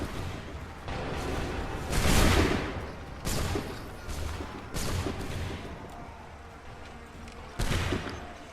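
A volley of musket or rifle gunfire on command, with several loud broadband bursts and crackling reports spread across the span, some closer and sharper, with rolling echoes between.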